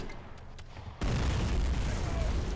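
WW1 75mm field guns fire in a battle video game, a sudden heavy boom arriving after a quieter stretch and rolling on as dense, loud sustained gunfire.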